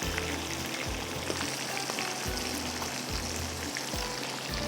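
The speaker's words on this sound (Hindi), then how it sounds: "चिकन फ्राई हो रहा है।" Chicken frying in a pan, a loud continuous close sizzle with a low rumble pulsing at regular intervals beneath it.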